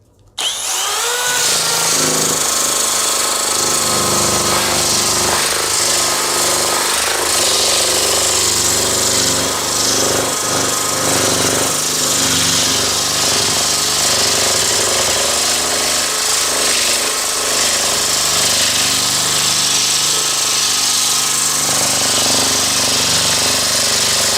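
A sanding attachment spun by a cordless screwdriver grinds against a workpiece, a loud continuous abrasive whir that starts abruptly and runs steadily for the whole span, alone without talk.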